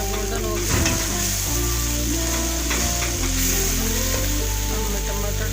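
Onions frying golden in a pan give a steady, close sizzle with occasional stirring, over a constant low hum in the background.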